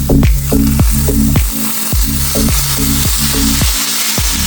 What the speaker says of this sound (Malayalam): ഇനി നമ്മൾ എടുത്ത് വെച്ചേക്കുന്ന ട്യൂണ നമുക്ക് ഇതിനകത്തൊക്കെ ഇട്ട് കൊടുക്കാം